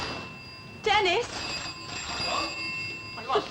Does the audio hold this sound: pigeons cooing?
no